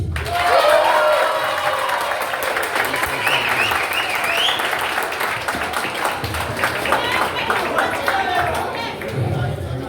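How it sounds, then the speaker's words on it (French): Sustained applause from a large audience at a pageant finale, steady clapping filling the room with some cheering and voices mixed in throughout. "nous sommes capables d'applaudir plus fort"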